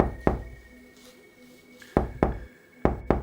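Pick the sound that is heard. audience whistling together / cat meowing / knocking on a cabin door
knocking on a cabin door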